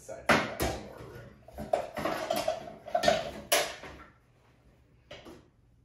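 Salt dough being stirred with water in a big bowl, with scraping and knocking clatters in uneven bursts, close and moderately loud, then a brief quieter clack near the end.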